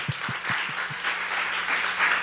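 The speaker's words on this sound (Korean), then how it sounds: "기대하고 소망하며 하나님께 박수하시겠습니다" Congregation clapping at a Korean church worship service, a steady broadband patter of many hands sustained throughout, with a few low thumps near the start.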